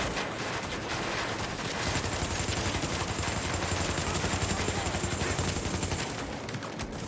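A submachine gun fires in long rapid bursts in the video game Tom Clancy's The Division, a dense rattling stream of shots that continues almost without pause.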